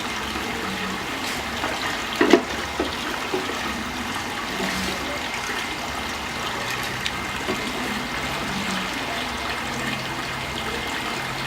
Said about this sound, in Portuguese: nós vamos colocar essa pedra de gelo nesse pequeno volume de água do aquário